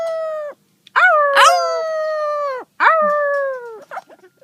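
A talking parrot in San Diego, California imitates a dog howl with three long, close, rising-then-falling wails separated by short pauses, followed by a few soft chirps.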